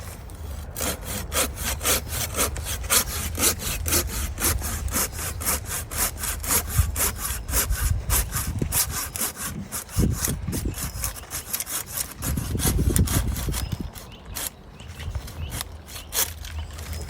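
A saw cuts through the trunk of a field-grown maple during repotting, with fast, even back-and-forth strokes that rasp steadily through the wood at close range for the whole stretch.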